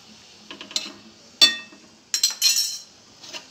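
A bowl clinks and taps in a few short, bright bursts while sugar is added to vermicelli cooking in milk with raisins and sliced almonds, the hits sparse and close with quiet gaps between.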